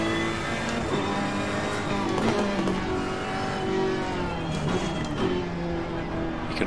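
Racing car engine revving and loading up through corners in a racing video game played on a Thrustmaster T300 RS GT wheel, a steady sustained engine drone throughout with rising and falling pitch.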